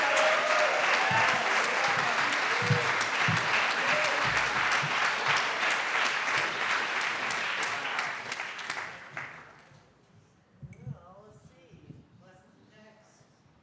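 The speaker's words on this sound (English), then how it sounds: "Let's give her another round of stunning. applause." A community audience at an August full moon ceremony gives Ariana a loud, sustained round of clapping that fills the space, then dies away into scattered quieter sounds.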